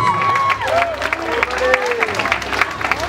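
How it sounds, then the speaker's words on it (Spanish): Loud, dense applause from a crowd of guests at a quinceañera party, steady clapping and cheering that fills the room, with scattered shouts and voices mixed in. "que se escuche fuerte el aplauso."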